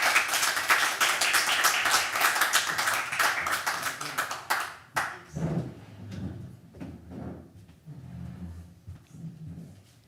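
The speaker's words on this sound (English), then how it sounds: "Let's give her a huge welcoming applause." Audience applause welcoming a poet at a poetry night at Caffe Lena, a crisp burst of many hands that dies out midway, followed by scattered thumps and shuffling noises.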